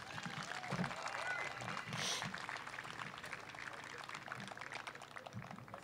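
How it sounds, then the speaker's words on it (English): Crowd applauding veterans at a gathering, a fairly faint, steady wash of clapping with a few voices and shouts mixed in. "we can give a round of applause for those guys."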